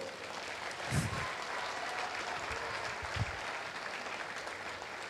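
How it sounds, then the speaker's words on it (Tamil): Audience applause at a Tamil business talk, a steady wash of clapping across the whole stretch, moderately distant and even, with a couple of brief low thumps and no speech over it. "டோனி போல் எங்களை வழிநடத்தி கொண்டிருக்கும் என் அப்பாவை பெரிய கைத்தட்டல"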